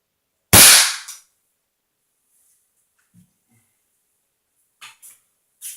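A black powder gun fires a lead pellet at coffee-can armor: one sharp, loud crack, then near silence with a couple of faint ticks and small knocks afterward.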